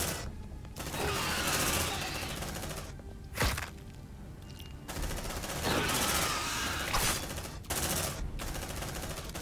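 Marines in Aliens Dark Descent fire on a target in loud, sustained bursts of automatic gunfire with short pauses between volleys. Occasional heavier thumps and clatter break through the shooting.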